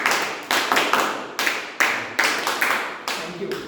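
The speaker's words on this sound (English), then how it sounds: "So we all know about scout clapping." A group does scout clapping in a rhythmic pattern: about nine sharp, crisp claps in quick clusters with short pauses between, clear and close.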